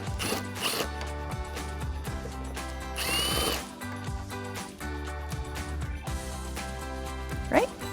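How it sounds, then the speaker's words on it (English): A 10mm socket on a ratchet or power driver works a headlight bolt loose on a 2016-2023 Toyota Tacoma, with whirring and clicking bursts against background music and no talk. "with the 10mm socket, I'm gonna start by removing that bolt that we just exposed."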